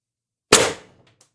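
A single sharp shot from a Pistelle X-68 Punisher foam blaster fitted with a Huben power stock and ADN X18 drum mag, one loud close crack that fades quickly with a faint click after.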